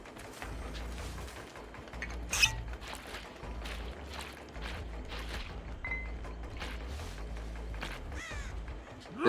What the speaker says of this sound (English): Just saw another crow fly up.